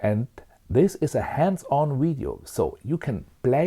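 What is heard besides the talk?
No everyday noise stands out behind the speech.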